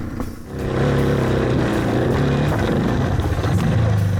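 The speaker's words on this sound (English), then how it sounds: "if I let off, engine braking's right there for me." Engine braking on an off-road motorcycle fitted with a Rekluse automatic clutch during hill-climb testing: a steady, loud low engine drone that swells after a brief dip and holds through the descent, with no talking.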